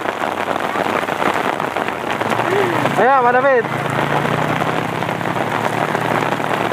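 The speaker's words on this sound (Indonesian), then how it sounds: "Nah, ini sepertinya hujan sudah mau turun lebat nih sob." Heavy rain pours steadily at a toll road construction site, a dense continuous hiss filling the scene while people talk and call out over it.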